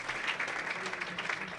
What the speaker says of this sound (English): She gets a nice round of applause here from the crowd